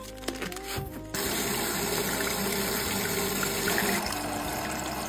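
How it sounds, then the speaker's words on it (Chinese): Running water gushes steadily as sausage casings are rinsed under a tap, a brief clatter at the start giving way to a continuous close splashing flow with no voices. "肠衣给它洗一下"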